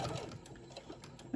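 A sewing machine makes a brief, faint, steady whirr as it stitches straight down the side of a faux leather zipper pouch.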